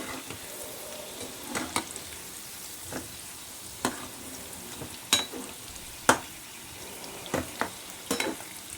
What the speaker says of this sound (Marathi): गोल्डन कलरवर भाजायचे आपल्याला आपले मेदू वडे